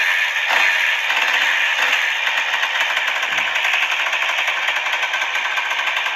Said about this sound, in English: That thing sounds mean. That's like a supercharged, it's like a turbo powered pocket bike.